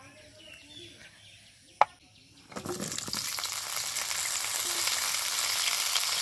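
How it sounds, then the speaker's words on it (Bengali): Pointed gourd pieces go into hot oil in a kadai: after a quiet start and a sharp clank, a loud sizzle erupts and settles into continuous, crackling frying. "এবার প্রথমে পটলগুলো ভেজে নেব, তার জন্য কড়াইতে দিয়ে দেব তেল।"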